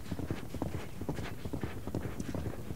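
Horse hooves clip-clop at a steady walking rhythm as the horse is ridden, a soft, even series of close thuds with nothing else over them.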